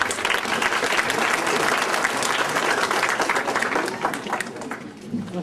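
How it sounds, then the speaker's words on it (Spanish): An audience at a seminar on political party financing and gender gives sustained, lively applause, close and full, holding steady for several seconds before thinning slightly at the end. "un aplauso para todos ustedes"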